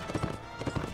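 Horse hooves clatter in a rapid galloping rhythm as a mounted rider charges through forest bandits in the video game Mount & Blade Warband on PS4, steady and fairly quiet with no talk over it.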